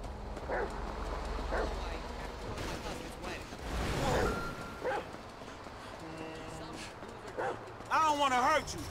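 Chop the dog in GTA 5 barks in repeated short bursts, close and fairly loud, mixed with a few yips while someone shouts over the action.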